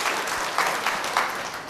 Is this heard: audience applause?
yes